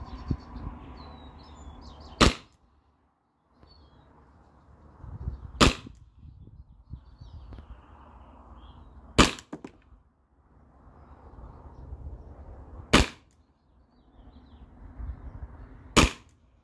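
A CO2-powered less-lethal gun firing salt rounds, five sharp isolated shots spaced about three and a half seconds apart, loud against a quiet outdoor background with faint birdsong.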